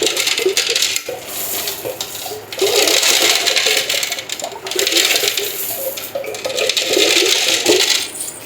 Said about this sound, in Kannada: ಈಗ ವೈಟ್ ಹಾಕ ಸ್ಟೋನ್ ಹಾಕ್ತಾ ಇದ್ದೀನಿ